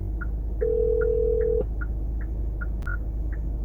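A phone call waits for an answer: a repeating electronic ringback tone pulses evenly at close range, with one longer steady tone near the start and a brief click partway through.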